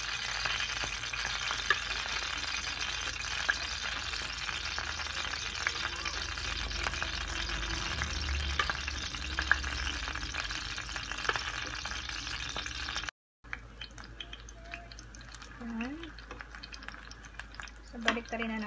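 Sardine fishballs fry in hot oil in a home kitchen, a steady, close crackling sizzle that runs on and on, briefly cut off, then resumes with occasional scraping and a voice talking.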